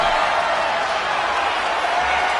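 Capacity arena crowd in the WWE 2K25 wrestling video game, a dense, steady roar of cheering that holds at full volume without a break.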